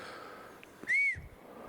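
A single clear, rising-then-falling whistle rings out outdoors during a Sasquatch search, lasting about a quarter second after a short breath, with quiet ambient noise around it.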